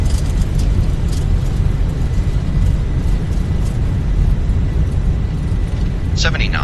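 Airliner engines roar in reverse thrust after landing at Paro, a loud, broad, sustained rumble heard from inside the aircraft, with brief crew voices and a short electronic chime near the end.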